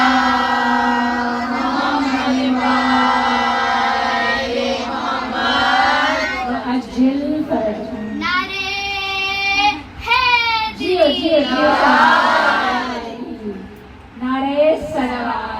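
Mourners at a Shia majlis gathering for Safar recite durood and salawat together in loud unison, voices swelling and overlapping with a clear chant-like rhythm over roughly fifteen seconds.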